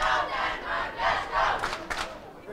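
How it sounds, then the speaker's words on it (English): Danish supporters cheering and shouting at a youth bowling team match, a loud crowd swelling in repeated waves with short bursts of yells near the end. "Danish crowd are trying to cheer up the boys."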